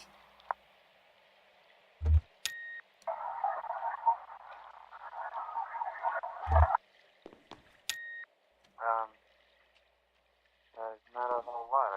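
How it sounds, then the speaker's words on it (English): Frogs croak in the video game Kentucky Route Zero: short, rasping, ribbed croaks come near the end, after a steady droning hum broken by a few sharp clicks and electronic beeps. "The frogs are too loud."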